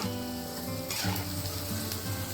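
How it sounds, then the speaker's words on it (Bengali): Sliced onions sizzle quietly in a pan, being fried crisp for biryani birista, a soft, continuous hiss with a brief clatter of utensils partway through and no voices. "এই যে পেঁয়াজ বেরেস্তা করছি ভাজা ভাজা হয়ে গেলে তুলে নেবো"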